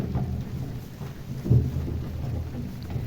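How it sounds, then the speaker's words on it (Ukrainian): Steady rain falls softly during an all-day downpour while low, distant thunder rumbles underneath, swelling briefly about halfway through. "дощик гарно йде"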